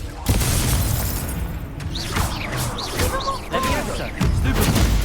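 Confringo spell blasts in a wizard video game: a sharp boom, then crackling whooshing magic effects and a second heavy impact near the end, loud and close.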